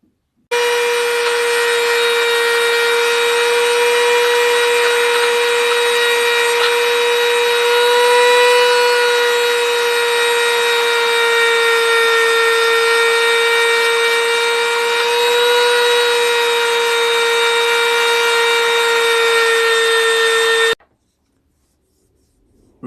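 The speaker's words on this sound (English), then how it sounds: "that's all the red resin sanded away" A power tool sands red resin off an envelope opener handle with a steady, loud, high-pitched whine that holds unbroken for about twenty seconds before cutting off abruptly, with no talk.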